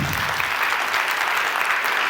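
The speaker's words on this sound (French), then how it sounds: "applaudissez maintenant" A theatre audience applauds energetically at a season presentation evening, a dense, steady clatter of many hands filling the room without pause, with no talking over it.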